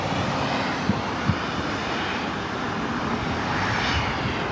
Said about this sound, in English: The Dreamliner heading back to Warsaw, heading up here for a north side takeoff